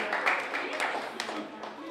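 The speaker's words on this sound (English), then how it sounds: "A round of applause for them as they come forward" Audience clapping fills a hall at a media fellowship exhibition as award winners step forward, a moderate, continuous patter of hands with scattered sharper claps, no speech heard.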